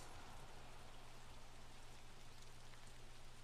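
Steady rain from the game Little Nightmares 2, a faint continuous hiss of falling drops with a low hum underneath and no talking.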